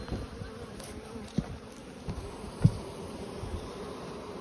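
Honeybees buzzing steadily around an opened hive, a close, continuous drone with a couple of faint knocks from handling the hive boxes.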